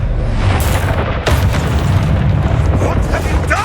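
A Confringo blasting spell goes off in Hogwarts Legacy, a loud booming explosion with a sharp burst followed by a rumbling roar, close and dense, over other game sounds.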